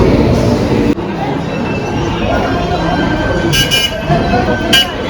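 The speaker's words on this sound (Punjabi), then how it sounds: "ਲਓ ਜੀ ਫਾਈਨਲੀ ਆਪਣੀ ਟ੍ਰੇਨ ਆ ਗਈ ਆ" A train rumbles loudly nearby with metallic squeals and a few short horn toots as it arrives at the station two hours late, while people talk amid the station noise.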